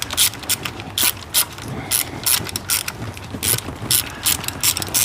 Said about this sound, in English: while we're going through this boring process of removing all these bolts